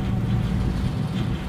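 Steady low engine rumble and wind noise from a passenger boat arriving at the lakeside town of Lecco, Italy, a constant, fairly loud drone with no pauses.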